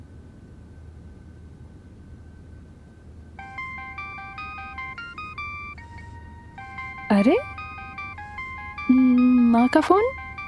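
A mobile phone ringtone plays a repeating electronic melody of steady beeping tones, fairly close and clear, while a voice exclaims over it and brief louder sweeping sounds cut in near the end.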